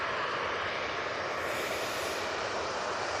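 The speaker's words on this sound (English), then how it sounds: "Ryanair coming on in front." Steady broadband roar of a Ryanair airliner on approach to Manchester Airport, a continuous loud jet rumble holding level throughout with no talk over it.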